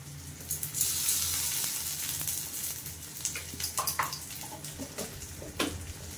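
Onion and tomato sizzle softly in a hot pan, with occasional scraping and stirring sounds, fairly quiet and close.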